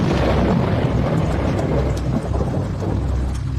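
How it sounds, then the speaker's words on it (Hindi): Thunder rumbles loudly and steadily over heavy rain as a sound effect in a narrated Hindi horror story, a dense continuous roar with no voice over it. "बाहर बिजली कड़की।"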